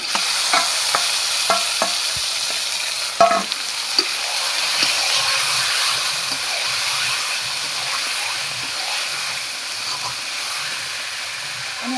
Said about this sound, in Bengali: এবার চিকেনটা দিয়ে দেবো